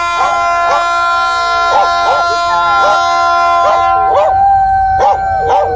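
A dog howls and barks repeatedly at night near a railway line, the bursts coming in an uneven rhythm, loud and close, over a sustained tonal drone.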